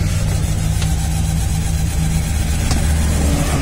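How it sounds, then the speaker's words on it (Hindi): A car stalled on a motorway at night, its engine cranking and running roughly in a steady, loud, low drone with continuous rumble, while the owner tries to start it. "तो अभी देखना, अभी गाड़ी बिल्कुल बंद है, अभी मैं स्टार्ट करता हूँ।"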